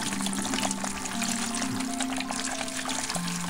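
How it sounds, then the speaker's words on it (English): Aquarium filter material, including ceramic noodles, is agitated and rinsed in a bucket of water, giving a steady close sloshing and pouring wash throughout. "So I put it straight into a bucket and then agitate, and it's a good idea to also rinse off."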